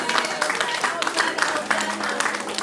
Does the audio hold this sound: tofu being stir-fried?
no